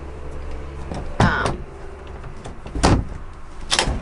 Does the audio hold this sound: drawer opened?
yes